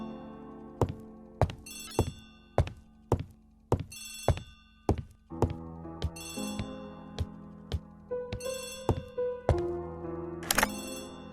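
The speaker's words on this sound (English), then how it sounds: "Poirot, the telephone." An old-fashioned telephone bell rings in a 1930s English detective drama, repeated sharp metallic trills in a steady rhythm, fairly faint and alone, with a light mechanical clunk near the end.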